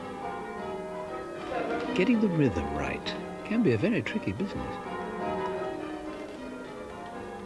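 Cathedral church bells ring faintly in the background in Chichester, West Sussex, while someone speaks clearly over them.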